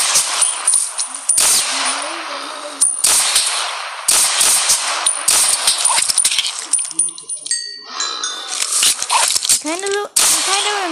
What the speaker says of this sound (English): We got the Rock Island 911, 45 ACP gun.